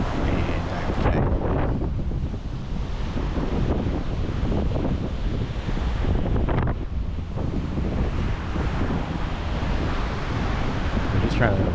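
Ocean surf rolls and crashes around a beginner kitesurfer on a strapless surfboard off Jupiter, heard as a loud continuous roar of waves buffeted by heavy wind rumble on the microphone throughout.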